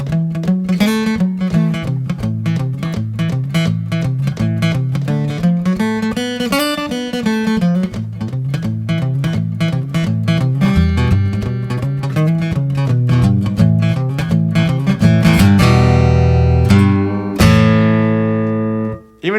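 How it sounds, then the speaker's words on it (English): Electric guitar picks a walking blues rhythm part in single notes, a steady stream of short plucked tones moving up and down, close and clear, ending on a few sustained ringing notes; no talking. "cool walking blues today, it's gonna sound like this"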